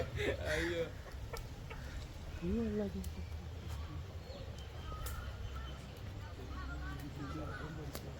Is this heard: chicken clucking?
yes